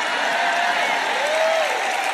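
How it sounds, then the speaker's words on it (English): Church congregation at a sermon bursts into loud, dense applause, continuous clapping from a large crowd with a faint voice rising through it. "Where were the claps on that, for goodness sakes?"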